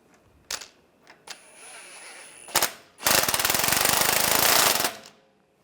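A power tool tightens the nut on a front drag link of a 2007-2017 Jeep Wrangler: a loud, steady, rattling burst of about two seconds after a few short clicks and metallic knocks.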